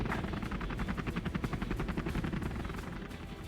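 A Comanche gunship helicopter in the video game Command & Conquer Generals, heard as a fast rhythmic rotor thump with a steady mechanical whine, held close and continuous for a few seconds.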